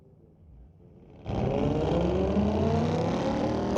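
Loud engines of a 2003 Nissan and a 2010 Mercedes-Benz drag racing at a street-legal night drag strip burst in after a quiet rumble, roaring steadily at high revs close by.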